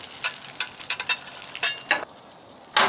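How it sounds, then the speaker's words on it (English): Onions and bacon sizzle on a griddle with bursts of scraping and stirring, a close, uneven crackle with sharp spatula strokes and no talk. "Heat up the onions and bacon while we're doing this."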